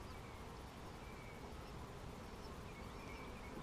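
Bees swarm around hives in a bee yard during colony splits, a dense, continuous buzzing hum that fills the whole moment without a break.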